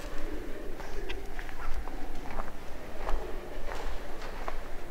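Pigeons coo inside an abandoned church, soft repeated calls over a steady low rumble, with a few faint footstep-like thuds scattered through.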